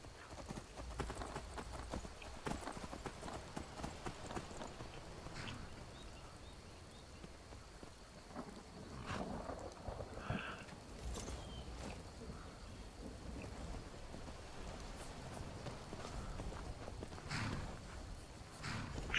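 Horses clip-clop steadily in Skyrim, the hooves a faint, continuous patter over game ambience with rain and distant thunder rumbling in the background.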